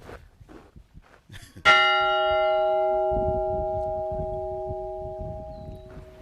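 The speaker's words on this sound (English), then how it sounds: "So he gonna ring the bell in honor of I guess in honor of us." A single strike of a large bell at Whitney Plantation, a loud clear clang that rings on with a long sustained hum and slowly fades, after faint rustling and murmured voices.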